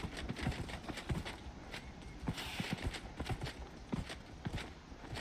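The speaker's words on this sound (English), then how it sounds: "Why's the horse so damn slow?" A horse's hooves clip-clop at a steady walking rhythm in the fantasy game Dragon Age: Inquisition, close and continuous over faint ambient background.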